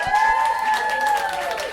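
A comedy club crowd breaks into applause with some cheering, a fairly loud, dense patter of clapping that runs steadily before tapering slightly.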